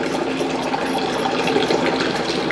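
Water pours steadily into a pot of biryani during cooking, a continuous close splashing gush with no talk.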